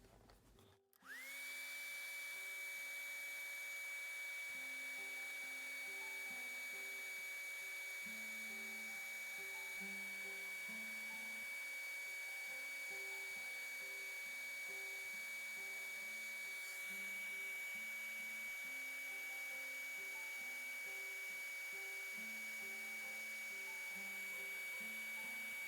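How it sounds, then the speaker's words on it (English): A hair dryer blows steadily on wet acrylic paint, a loud whining whir with a high pitched tone that runs unbroken for about twenty-five seconds, switching on sharply at the start, with no talking. "I'm going to focus on this spot as I blow dry."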